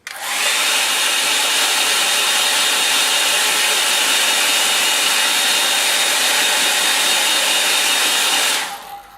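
A hair dryer blows steadily for about eight seconds, drying a watercolour lake-and-sky painting, loud and close with a smooth, constant airy roar that switches on and off cleanly and has no talk over it.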